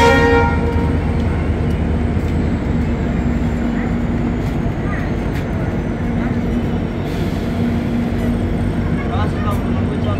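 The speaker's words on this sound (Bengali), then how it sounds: "আমাদের ট্রেন হোজাই থেকে ছাড়লো" The Sairang–Kolkata Tri-Weekly Express pulls out of Hojai station with a long horn note over the steady rumble and clatter of the rolling coaches, heard from on board, with faint voices in the carriage.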